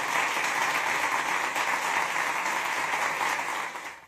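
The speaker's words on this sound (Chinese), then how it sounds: "掌声有请贾明君老师" Audience applause welcoming a lecturer onto a legal seminar stage, a dense, even wash of clapping held steady for several seconds before trailing off at the end.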